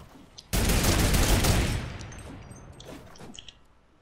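A turret opens fire in a video game, a sudden loud burst of rapid gunfire that fades after about a second into scattered fainter shots.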